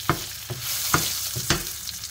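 Chili frying in a pan with a steady hiss, broken by a few sharp sizzling bursts at regular intervals, close and fairly loud.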